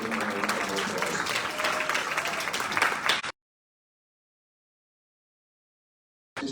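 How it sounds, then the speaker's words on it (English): An audience at a Black History Month celebration breaks into dense, steady applause with crowd murmur mixed in. It lasts about three seconds and then cuts off abruptly into silence. "Just giving her a round of applause."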